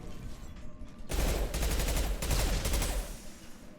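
A garbage SMG opens up in Mass Effect on Insanity difficulty: after a quiet second, a loud sustained burst of rapid automatic fire with a booming low end, firing continuously to the end.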